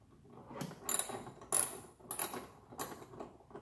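A ratcheting tool loosens the screws of a car glove box, giving four or five quiet clicking bursts with short pauses between them, close but faint, with no speech.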